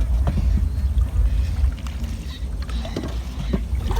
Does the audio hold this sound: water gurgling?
yes